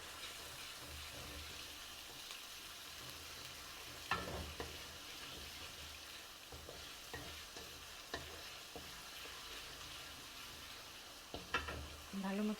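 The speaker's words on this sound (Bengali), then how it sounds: "এখন মশলাটা ভালো মতো কষাবো।" Ginger and spice paste fries and is stirred in a pan for chicken bhuna, producing a soft steady sizzle under occasional utensil scrapes and clinks, fairly quiet throughout.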